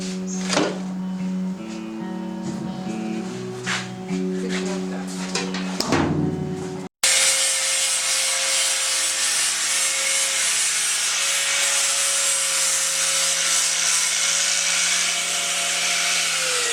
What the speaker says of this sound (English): You have to sand this back.